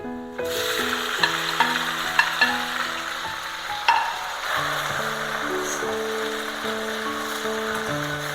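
Chopped tomato dropped into a pan of fried curry leaves and garlic, crackling into a steady close sizzle with a few stirring scrapes and light taps, with no talking.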